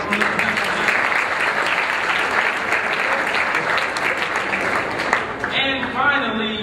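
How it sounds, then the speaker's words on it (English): Audience applause at a forum for Black men at FAMU, a dense, loud wash of clapping that carries on steadily before fading as a voice comes in near the end. "Let's give another round of applause"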